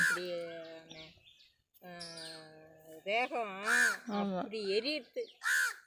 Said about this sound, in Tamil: அந்த பறவைங்கெல்லாம் கத்துறான் பாருங்க மரத்தில் உட்காந்துக்கிட்டு